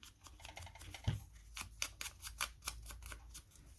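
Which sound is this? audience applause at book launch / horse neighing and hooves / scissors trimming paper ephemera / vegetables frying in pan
scissors trimming paper ephemera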